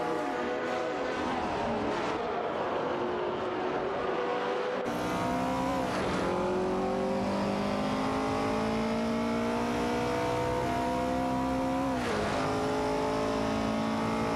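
Race cars, including a Porsche Spider and a Ford GT40, roar around a track, engines revving and shifting loudly with sharp bursts as cars pass close by, continuous and without talk.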